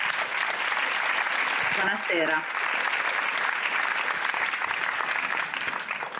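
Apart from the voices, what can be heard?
audience applause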